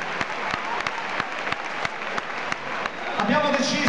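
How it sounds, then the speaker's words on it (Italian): Applause rises from an audience at a hip hop forum event in Assago, Milan, steady clapping throughout that swells near the end as the crowd joins in. "Un bel applauso a Tommaso."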